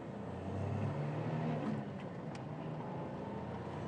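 An older car with a rough gearbox pulls away under acceleration, its engine giving a steady low drone heard from inside the cabin, with no voices.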